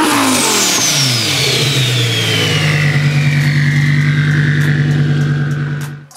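Twin-turbo Audi R8 with a QSTuning Alpha 10 setup revs hard, the engine note sweeping and then settling into a loud, rich, sustained drone that cuts off at the end.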